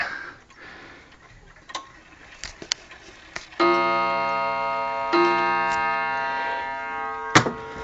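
A second Gustav Becker wall clock ticks in sparse, quiet clicks, then two loud chime strikes ring out and hang in the air, close by with no talking.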